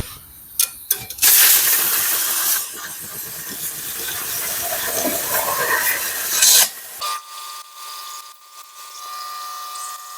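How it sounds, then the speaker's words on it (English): Compressed air blasting out a clogged tractor radiator on a farm: loud broadband hissing bursts, sputtering at first and then a sustained roar for several seconds, cutting off abruptly to a quieter background with a faint steady tone. "I'm gonna go ahead and blow it out with the compressed air"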